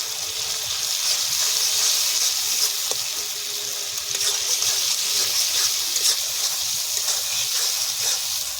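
Fried onion paste lands on frying tomatoes for a chicken curry, giving a steady, close hiss and sizzle that crackles continuously without any talking.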